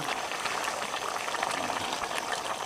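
Chicken hearts simmer in a sweet, sour and spicy sauce in a pan, giving a steady, close bubbling and sizzling hiss that runs unbroken throughout.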